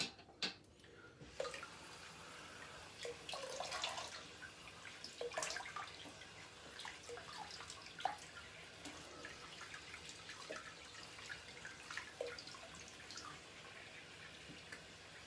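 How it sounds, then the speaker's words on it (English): Running tap water for rinsing off after a shave, with a steady faint gush broken by splashes and drips as hands move through the stream, close by. "let me get rinsed off and we'll get to the post shave"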